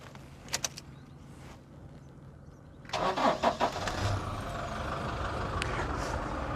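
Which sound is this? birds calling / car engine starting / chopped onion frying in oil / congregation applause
car engine starting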